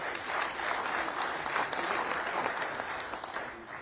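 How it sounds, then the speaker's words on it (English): Steady, sustained applause from a crowd at a 100 Black Men of America conference panel, a thick even patter of many hands clapping throughout. "Give yourselves a big round of applause."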